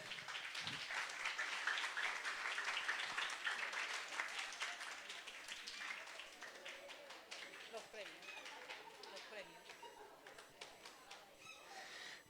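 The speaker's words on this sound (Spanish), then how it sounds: "Y un aplauso también para nuestro jurado calificador." A crowd at a school event applauds the judging panel. Full clapping in the first half thins to scattered claps, with voices murmuring underneath.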